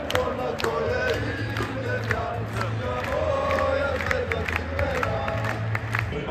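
Large arena crowd at a Red Star EuroLeague basketball game clapping and cheering together, a loud, dense, continuous roar with rhythmic claps and shouts throughout.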